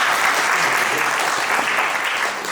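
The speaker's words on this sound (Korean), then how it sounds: "박수 한번" An audience at a civic education society's closing ceremony gives a brief burst of close, dense applause that stays loud and even throughout.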